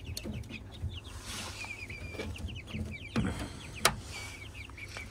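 Blue Porcelain Brahma chicks peep rapidly and chickens cluck softly around chick feed, the cheeping high and busy throughout, with a few sharp knocks.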